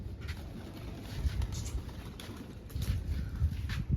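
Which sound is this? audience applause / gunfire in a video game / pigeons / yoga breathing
pigeons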